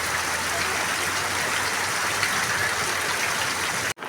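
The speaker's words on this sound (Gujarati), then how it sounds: "વરસાદ તો ફૂલ પડે" Heavy rain falls in Patdi, a dense, even roar of drops that stays loud and close throughout before cutting off abruptly at the end.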